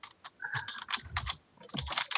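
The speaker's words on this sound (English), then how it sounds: "So much typing." Rapid clicks from a computer keyboard typed in bursts during a Minecraft drawing game session, close and crisp with short pauses between flurries and no voices over them.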